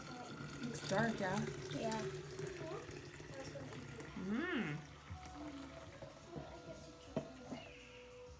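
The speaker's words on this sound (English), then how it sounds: "a clean jar. And then I'll put the kombucha in it." Mango kombucha is poured into a clean jar: liquid trickles and splashes in short runs, partly under two people talking in a kitchen.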